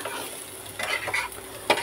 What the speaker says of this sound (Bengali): আলু ভাজা করছি, পেঁয়াজ আর আলু ভাজা করছি